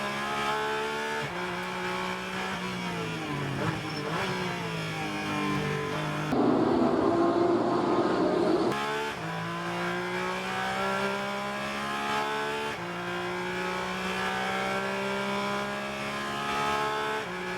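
A 4-liter Porsche Cayman race car at Daytona, heard from on board under hard driving, its engine howling as it climbs through the revs, with repeated gear changes and a roaring burst at full throttle.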